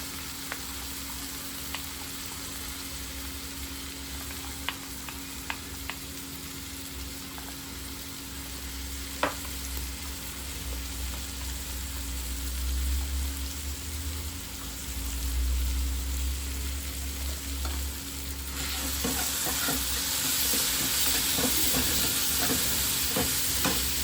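A water and gram-flour mixture being stirred in a pan for hotel-style poori sagu, with a soft continuous scraping swirl, faint clinks of the spoon, and a louder sizzling wash building near the end.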